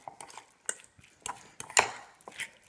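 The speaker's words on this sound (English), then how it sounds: "Stir it up" A utensil scrapes and clinks against a dish while tuna is stirred with mustard, irregular sharp taps and scrapes, close and moderately loud.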